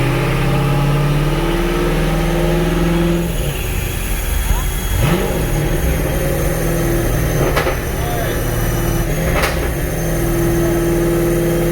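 A 1000-horsepower Dodge Challenger Hellcat on a dyno in a hot shop, its engine droning loudly and steadily with rising revs, a few sharp transient spikes cutting through the roar.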